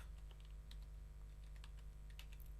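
Rapid keystrokes on a computer keyboard as a scenario name is typed into a spreadsheet's what-if scenario manager: light, irregular clicks close by over a steady low hum.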